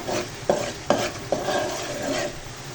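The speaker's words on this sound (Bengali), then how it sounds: "এখন ভালোভাবে মশলাগুলো কষে নেব" Spices for beef curry being stirred and fried in a pan with fried onions, three distinct scraping strokes of a spoon over a low steady sizzle, close and fairly loud.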